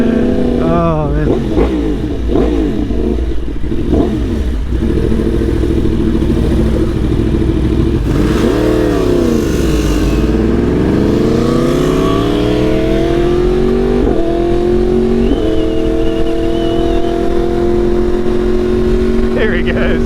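Tuned Yamaha R1 Limited Edition motorcycle accelerating hard, its loud engine note climbing and dropping repeatedly as the quick shifter snaps through gears, with a brief voice over the roar.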